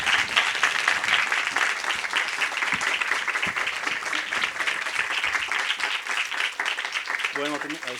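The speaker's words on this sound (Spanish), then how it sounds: "Un aplauso, por favor. Por favor, que se escuchen esas palmas." Audience applause at a screenwriting event in a hall, steady dense clapping that continues for several seconds without letting up, fairly even in level, with a voice briefly heard near the end.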